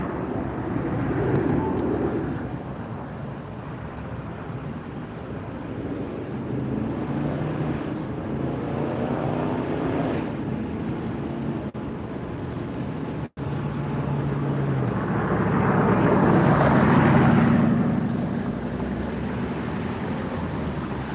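A Lufthansa Boeing 747 in retro livery begins its takeoff roll at the end of a runway at Los Angeles airport, a steady broad jet roar heard from a distance that swells louder toward the end, with wind buffeting the microphone.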